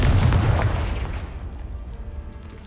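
A Confringo blasting spell detonates against a pile of debris blocking a stairwell in Hogwarts Legacy: a loud, booming explosion at the start that rolls off into a long, fading rumble, with no voices over it.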